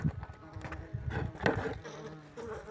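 Yellowjacket wasps buzz and drone close by in an irregular swarm inside a raided beehive, the humming rising and falling with some soft knocking underneath.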